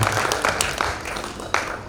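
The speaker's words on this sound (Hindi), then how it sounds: "एक बार जोरदार तालियां बजाइए" Steady, moderately loud clapping from an audience at a Hindi kavi sammelan poetry gathering marking Akhand Bharat Smriti Diwas, a dense patter with a few sharper claps standing out.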